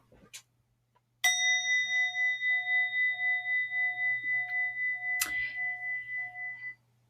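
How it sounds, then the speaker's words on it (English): A small bell is struck once, then its clear metallic tone rings and pulses steadily for several seconds before fading, with a second strike partway through, heard alone in a quiet room. "You could ring a bell, which is another fun one to do."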